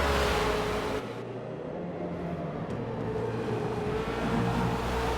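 Race cars in a racing game crossing the start-finish line at Bathurst, a steady loud engine roar that shifts as the group passes, no voices.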